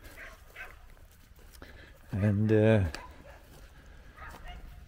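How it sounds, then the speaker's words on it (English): A neighbor's dog lets out a single drawn-out bark at moderate distance, standing out clearly amid faint outdoor background sound, with a brief word of speech nearby. "the neighbor has a few new dogs that are making a lot of noise"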